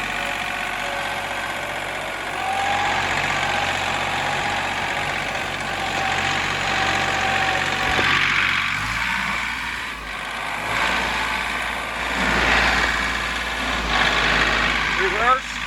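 A John Deere tractor engine runs steadily in low gear moving forward, a continuous mid-pitched idle-like drone with slight shifts in load, heard close and alongside some voice activity.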